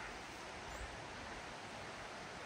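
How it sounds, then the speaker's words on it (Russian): Steady broadband rushing of a river in Borjomi's central park in late October, constant and fairly loud with no pauses, running close by. "а с той стороны шумит река"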